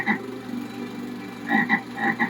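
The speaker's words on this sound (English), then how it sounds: "there's a massive frog in my house." A big frog croaks in a series of close, rasping calls, one at the start and a cluster of three or four toward the end, over a low steady background hum indoors.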